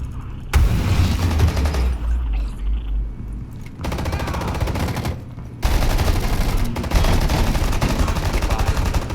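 Gunfire and a grenade blast inside the tactical shooter Rainbow Six Siege: loud, dense bursts of automatic fire with heavy booms, continuous across the whole stretch, briefly dipping before intensifying again.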